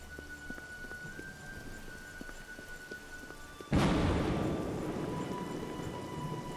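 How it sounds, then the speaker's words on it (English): Rain falls in the Oblivion video game, starting abruptly as a loud burst of steady hiss after a quieter stretch with faint ambient sounds, then easing slightly while it continues. "It's raining"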